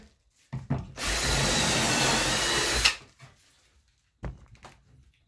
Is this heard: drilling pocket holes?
yes